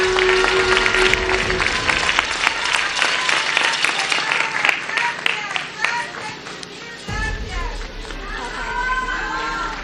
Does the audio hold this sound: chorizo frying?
no